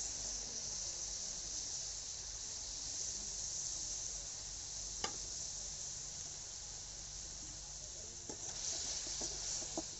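A paste of ginger, cumin and coriander with chili powder fries in a pan for a taro-stem curry, giving a soft, even sizzling hiss that holds steady, with a couple of faint stirring clicks and no talking.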